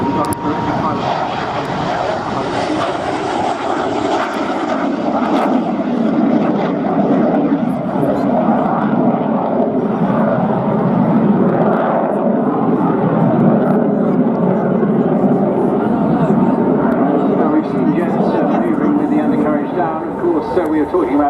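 A French Air Force Alpha Jet performing a flying display over Scampton, its jet engine roaring steadily and loudly throughout with a broad, sustained rumble, while a commentator talks over the aircraft noise.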